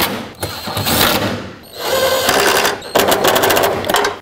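Power tool running in short whirring bursts while snugging wiper transmission mounting bolts on a car, three close, loud spins separated by brief pauses, with a buzzing, ratcheting texture.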